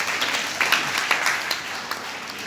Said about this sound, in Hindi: बैठिए, ताली बजाना इनके लिए, ताली।